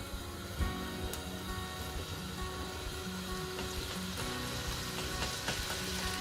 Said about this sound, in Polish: jak on już tutaj nam się zaczyna smażyć